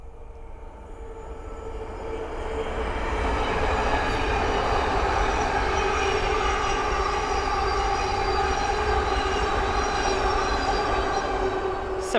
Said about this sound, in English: our final train for part 1 is a Thameslink 700 from Gatwick Airport to Bedford